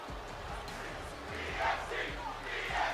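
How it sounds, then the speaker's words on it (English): Crowd chanting in the wrestling video game WWE 2K24 makes a steady, moderately faint arena roar with rhythmic low thumps throughout a Smackdown match, with no talk over it. "And the crowd chanting for the EST."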